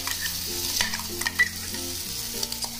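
Masala sizzles steadily in oil after tomato puree is added, with spoon stirring and scraping against the pan heard up close.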